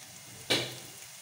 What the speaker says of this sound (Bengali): এই করলাটা দিয়ে দিলাম। এটাকে ভেজে নেব ভালো করে।